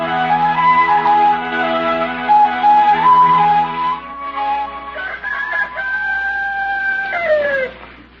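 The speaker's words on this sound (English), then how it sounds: "Darn rooster." A rooster crows loudly and close, a long drawn-out call followed by a second strained, wavering crow, in an old-time radio comedy scene, with no other voices.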